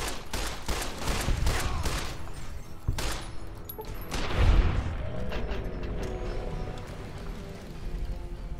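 Gunfire in the video game Fallout New Vegas, fired down a hallway: a run of sharp, loud shots early on followed by a heavier burst midway, with game ambience continuing after.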